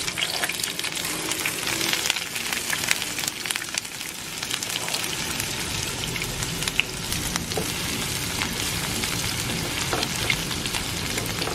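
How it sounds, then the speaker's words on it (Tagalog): Onion sautéing in coconut oil in a hot pan gives off a steady, dense sizzle and crackle that runs unbroken throughout, moderately loud and close, with no voices. "naglagay lang ako guys ng coconut oil sa mainit na pan. Tapos, i-saute lang natin to."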